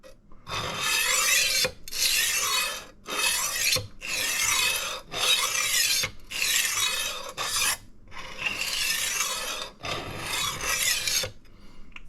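Repeated slow rasping strokes of a knife edge honed on a rolling sharpener, about eight long even passes with brief pauses between them, close and fairly loud, no voices.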